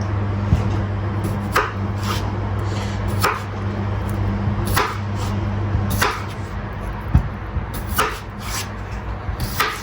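Repeated sharp knife chops on a board at an uneven rhythm, close and clear over a low steady background hum.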